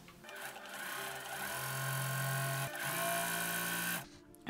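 A sewing machine runs steadily while chain stitching fabric quilt blocks, its motor whirring close and loud with a brief dip in speed before it stops.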